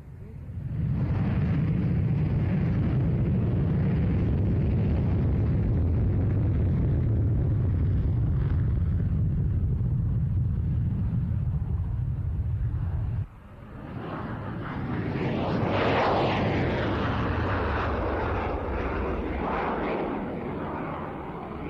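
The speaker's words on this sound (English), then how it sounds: "play out that little bit of Mirage nostalgia from Farnborough 1994" A Dassault Mirage jet at Farnborough in 1994 roars past, a loud sustained engine rumble that cuts briefly, then returns as a rising, sweeping jet howl.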